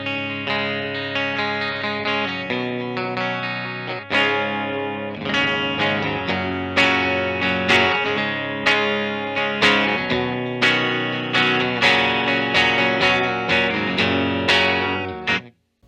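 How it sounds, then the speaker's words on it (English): Fender Telecaster electric guitar, a 2021 75th Anniversary model, played through effects with chorus and distortion, loud repeated strummed chords with a bright twang ringing alone and cutting off at the end. "It's got that nice Tele twang."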